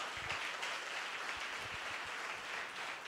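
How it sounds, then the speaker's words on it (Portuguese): Congregation clapping in a church, a steady wash of applause at moderate level with no voices over it, holding evenly from start to finish. "Aplauda o Senhor aí."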